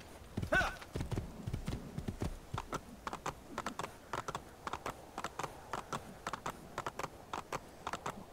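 A horse in Assassin's Creed II gallops under a rider, with a steady run of quick, even hoofbeats and a few louder thuds at the start.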